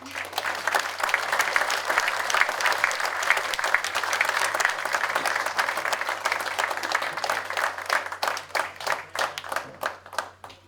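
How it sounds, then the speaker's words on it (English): An audience at an American Legion veterans forum gives a warm round of applause to welcome speakers to the stage: sustained, full clapping from many hands that thins out and trails off toward the end. "with a warm round of applause"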